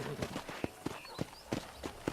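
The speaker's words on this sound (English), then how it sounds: "I picked out a fine horse for you." Horse hooves clip-clop in a steady, loose rhythm on a ranch in Red Dead Redemption, close and moderately loud, with a few sharp strikes standing out and a faint background hum.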